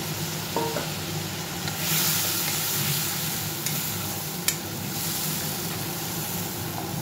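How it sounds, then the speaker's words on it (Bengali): Spice paste sautéed in a pan with a splash of water for a bottle gourd and tangra fish ghonto, giving a steady, close, dense sizzle that barely changes, with a couple of faint clicks and no voices. "একটু মশলাটা কষিয়ে নিই। আর একটু জল দিয়ে দিলাম।"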